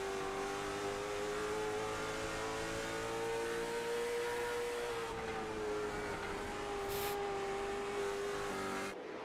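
Race cars lapping the track at Nashville Fairgrounds in a late model stock car event, engines droning loud and steady at high revs throughout, with a slight pitch shift as they run on.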